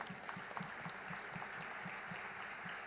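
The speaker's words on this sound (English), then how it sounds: "Big round of applause for them, please." A crowd applauds steadily, with rhythmic clapping running throughout, heard faintly and at some distance.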